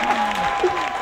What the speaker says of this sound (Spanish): Aplauso para Lancelota.